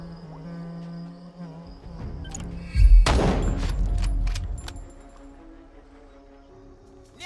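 Gunfire in a merc squad tactical strategy RPG video game: a sudden loud boom and burst of shots erupts midway, then rumbles and fades back into quiet background ambience.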